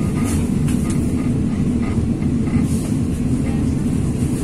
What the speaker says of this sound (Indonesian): Sudah kereta tuh sebelah sana tuh